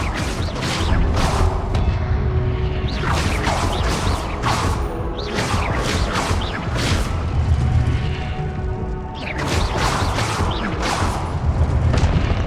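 Spell effects from the video game Hogwarts Legacy, a run of loud booming impacts, crashes and whooshes in repeated bursts with brief lulls between them.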